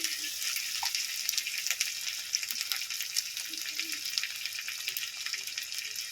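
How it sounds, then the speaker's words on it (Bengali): Garlic paste fries in a pan for a jackfruit seed dish, giving a steady bright sizzle that crackles continuously at close range with only faint background sounds. "ভালো করে একটু ভেজে নেব"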